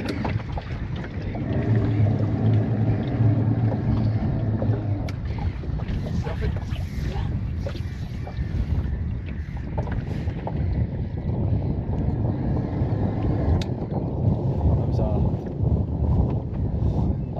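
Motor boat moving slowly near a bank while fly fishing for trout, a steady low engine rumble with water wash and wind buffeting on the microphone, and someone speaking over it.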